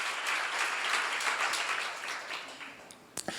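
Sustained applause from a church congregation at a sermon seminar, broad crowd clapping that gradually thins and fades toward the end, with a few sharp louder claps near the close.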